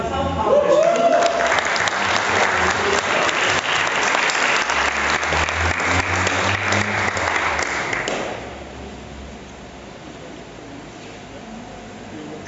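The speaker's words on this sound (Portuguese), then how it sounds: "uma salva de palmas para Jesus" A church congregation applauds in praise of Jesus: a dense, steady wash of clapping for about eight seconds that then drops away to a quiet room tone.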